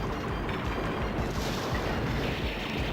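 A dense, continuous roar of rumbling blasts from a bomb going off in the NeoGeo shooter Sonic Wings 3, a thick wall of explosive noise with repeated low thuds throughout.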